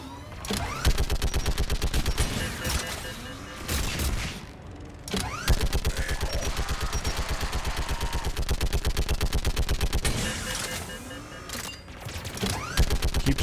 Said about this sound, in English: Keep singularitying them, Liara, and I'll just keep shooting them down